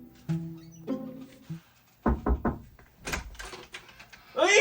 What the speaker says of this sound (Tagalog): Katok ka nga, katok.